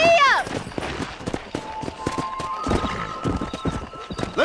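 Galloping horse hooves in the Red Dead Redemption video game, a rapid clip-clop rhythm running throughout, with a horse whinny at the start and people talking over it.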